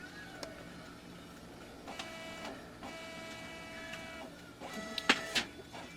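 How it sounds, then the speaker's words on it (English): A Brother MFC-7220 printer/scanner/copier runs a scan, giving a steady mechanical hum with several rising motor whirs and a few clunks near the end, heard close and fairly quiet. "It says true gray, and it just scans."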